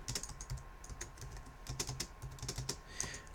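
Fingers type on a computer keyboard in a steady run of close, light clicking keystrokes, with a few louder taps standing out from the rest and no talking.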